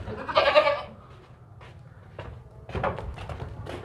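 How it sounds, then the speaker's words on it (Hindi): A male goat lets out a loud bleat, followed by scattered shuffling and knocking noises nearby with a few faint, shorter calls. "ये देखें भागता दौड़ता खाता पीता सेहतमंद बकरा है"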